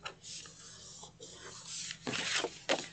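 Folded paper is creased by hand while making an envelope, producing soft, close rubbing strokes in a few separate bursts, with sharper swipes near the end.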